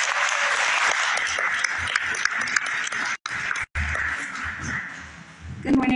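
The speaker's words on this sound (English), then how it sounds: "Give her a round of applause." Audience applause at a youth foundation's 22nd anniversary event, a dense, loud wash of clapping that fills the room, briefly cut off twice before fading near the end.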